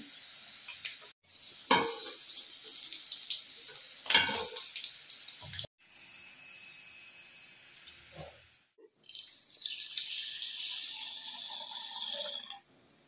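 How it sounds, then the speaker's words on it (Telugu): Chicken pieces frying in oil for chicken pachadi, a steady wet sizzle with bursts of stirring and scraping that rise and fall, close up, with no talking. "చూసారా ఎలా వేగిపోయినా, ఇలా ఎర్రగా వేగాలి ముక్కలు."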